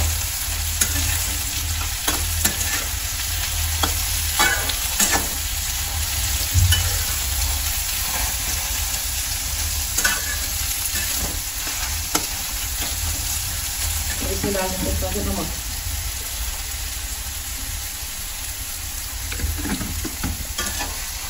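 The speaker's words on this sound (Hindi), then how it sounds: "तो सबसे कुछ मिक्स करेंगे तेल में, ताकि तेल के अंदर पूरा अच्छे से तेल में फ्राई हो जाए।" A mixture frying in hot oil while being stirred, a dense, continuous close sizzle with scattered scrapes and clicks of a utensil running throughout at a steady loud level.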